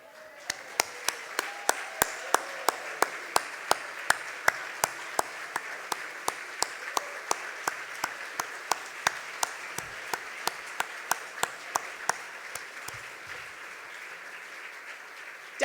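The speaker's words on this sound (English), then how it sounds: "And let's hear one round of applause for Dr. West, who we're honoring." A standing crowd at a gala dinner honoring an honoree applauds in unison, sharp evenly spaced claps keeping a steady beat for about thirteen seconds over a soft room background, then tapering off.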